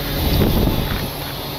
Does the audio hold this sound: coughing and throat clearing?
no